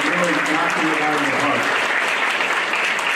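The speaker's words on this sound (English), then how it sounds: "just give them a nice round of applause" Audience applause at a band concert, a loud, steady wash of clapping, with a voice speaking over the start before the clapping carries on alone.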